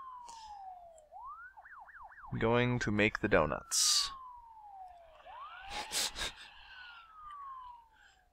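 In the SimCity 2013 city-building game, an ambulance siren wails and sweeps up and down as it sits in traffic, moderately loud, mixed with game effects and someone talking over it.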